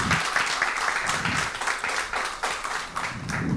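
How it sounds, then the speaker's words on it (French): Audience applause at a high school quiz match, with a full, steady burst of clapping from the crowd and faint surges in its rhythm, lasting throughout. "je demande au public de l'applaudir"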